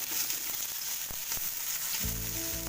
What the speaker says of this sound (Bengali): দেখো পেঁয়াজগুলো মোটামুটি রং ধরে গেছে পেঁয়াজ ভাজা।